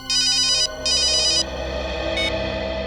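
A telephone rings with two bright electronic trilling bursts over a low background hum, then a short faint tone, with no talking.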